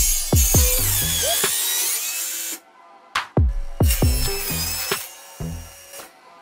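A power saw makes repeated cuts through wood pieces for a beginner's multipurpose baby basket, each short burst of cutting separated by clunks and a brief pause, close and loud without talk.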